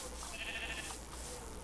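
Sheep in Minecraft give a short nasal bleat in the middle of a steady, faint game-world hum, with no talking.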